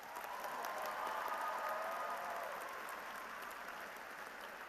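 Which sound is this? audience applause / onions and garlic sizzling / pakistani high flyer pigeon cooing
audience applause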